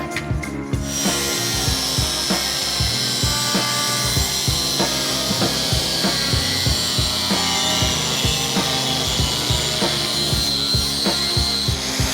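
Clamp and bulkhead brackets on a Honda K-Series mini supercar project are cut off with a reciprocating saw, a continuous loud rasping buzz with rapid rhythmic strokes that runs unbroken throughout.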